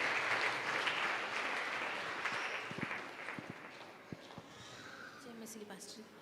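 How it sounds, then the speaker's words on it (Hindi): Church congregation clapping loudly in a dense burst at first that gradually thins and fades, with voices and scattered sounds rising as it dies down. "जोरदार ताली बजाओ"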